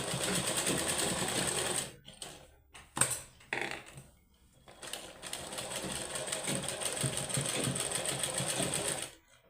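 A sewing machine stitches an old sweater into socks, its close, steady mechanical whirr running in bursts, broken by short pauses near the start before a long continuous run; no talking.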